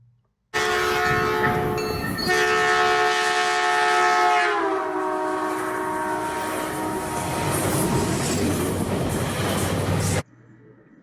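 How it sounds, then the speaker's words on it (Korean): Loud train horn blaring steadily as a train passes, its sustained chord dropping noticeably in pitch partway through as the train moves away, with rumbling rail noise underneath and no talk. "보신 것처럼 기차가 지나가고 나서는 경적 소리가 낮은 음으로 들리는 것을 확인할 수 있습니다."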